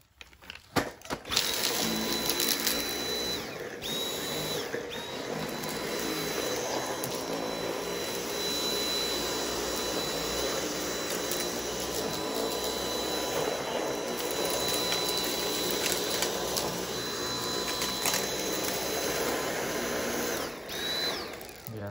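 A Dyson V8 cordless vacuum cleaner runs in a garage with a clog at the bin entrance, giving a steady, loud motor whir with a high whine that continues for the whole stretch, with brief rattling crunches over it.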